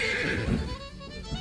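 A horse gives a clear, fairly close whinny on a farm, a single drawn-out neigh that rises and then falls away.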